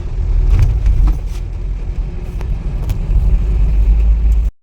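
A Tata Safari Storme SUV engine runs steadily after servicing, a loud, close, continuous low rumble with slight fluctuations that cuts off abruptly near the end.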